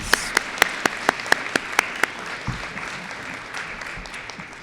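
An audience claps at an eighth grade school promotion ceremony. A few sharp, evenly spaced claps stand out up close over a wider spread of applause that thins and continues more softly.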